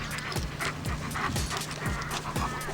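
Zeus, a dog in recall training, pants rapidly and rhythmically close by, with quick breathy bursts and faint whimpering tones over a constant low hum.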